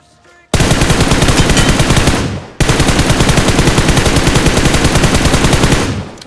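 Automatic gunfire sprays in a BGMI battle royale match, two long, loud bursts of rapid-fire shots, the first about two seconds and the second nearly four, separated by a brief gap.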